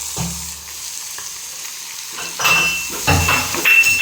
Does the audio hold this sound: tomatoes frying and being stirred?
yes